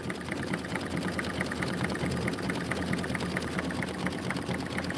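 A sewing machine runs steadily through a long stretch of stitching on felt appliqué pieces, its rapid, even needle strokes forming a continuous mechanical chatter with no pauses.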